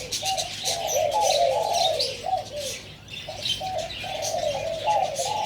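Repeated low cooing calls of a spotted dove in rhythmic phrases, fairly close, with chirping birds and outdoor ambience behind.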